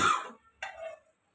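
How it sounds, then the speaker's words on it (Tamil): Two close, sharp coughs about half a second apart, set off by the smell of cooking while Korean noodles are being made, with silence after them. "நல்லாவே இருமல் வருது"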